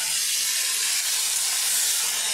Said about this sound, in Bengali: এখন আমি এই যে আলু কেটে রেখেছি এগুলো ভেজে নিচ্ছি।